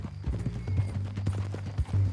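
Horse hooves clip-clop steadily in Red Dead Redemption 2 as a horse carries a bound captive toward Saint Denis, a close, continuous trotting rhythm with faint creaks and low rumble beneath.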